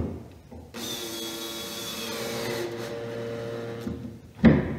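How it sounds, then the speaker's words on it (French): A power drill whirs steadily for several seconds, boring pilot holes and driving #6 5/8-inch screws into a cabinet door hinge in a woodshop, ending with a short knock. "je vais percer le centre de mes trous et ensuite j'utilise de la vis numéro 6 de 5/8 et je visse ma penture"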